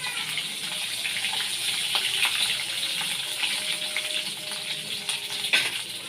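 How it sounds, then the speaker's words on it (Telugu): Mustard seeds, cumin, green chilies and peppercorns sizzle steadily in hot oil, a continuous close crackling hiss with scattered small pops while cooking pesara pappu pongali. "ముందుగా ఆవాలు, జీలకర్ర, పచ్చిమిర్చి, మిరియాలు వేసాను. చూడండి ఫ్రెండ్స్, ఇవి బాగా వేగాలి."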